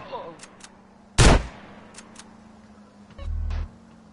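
Shotgun fire in Grand Theft Auto San Andreas Definitive Edition: one loud, sharp blast bursts out amid quiet game ambience, followed later by a low humming rumble, with no voices.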